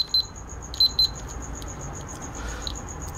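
A remote-controlled fan's electronic circuit board gives several short, high electronic beeps, a quick pair early and another pair near the start of the second second, close and clear over faint hiss.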